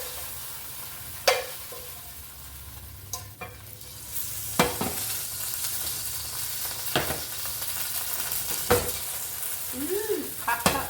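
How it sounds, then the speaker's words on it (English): Leftover pre-cooked shrimp dropped into a hot pan for fried rice, stirred with a few scraping clatters over a steady sizzle. "I have some pre-cooked shrimp that I already cooked and I just had left over. So I'm just going to add it to this bowl."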